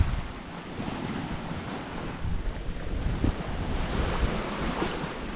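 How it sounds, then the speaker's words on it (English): Wake from a passing pontoon boat washes against the shore of Raystown Lake, a steady churning slosh of lake waves mixed with wind noise on the microphone. "Pontoon boat went by and look, I can't believe the waves it made."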